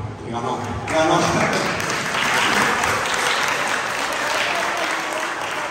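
Loud, sustained applause from a large audience at a pastor's church conference talk, a dense roar of clapping that continues steadily throughout.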